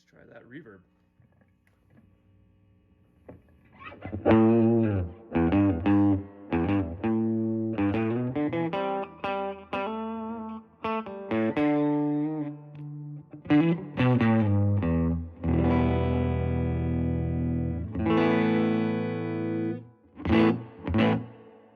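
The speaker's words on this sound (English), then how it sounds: "Cool, let's try that reverb." An electric guitar through a Fender Princeton solid-state amp with its reverb on low, a reverberant tail, a run of picked notes and chords that sustain and ring, starting after a quiet moment.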